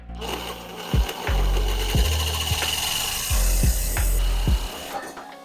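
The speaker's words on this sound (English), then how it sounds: "I moved to the Sawzall because apparently I cannot cut straight with a grinder." Sawzall reciprocating saw cutting metal pieces for a dirt bike engine stand, a loud close buzzing rasp with regular strokes roughly twice a second, running throughout before stopping near the end.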